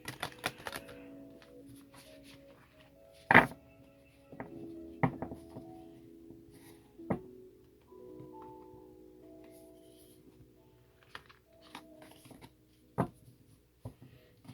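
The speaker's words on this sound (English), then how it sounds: "bear with me while I struggle shuffle these cards real quick" Stiff heart-shaped cards are shuffled and tapped in short irregular bursts, with soft scraping and a few sharper clicks against a quiet background.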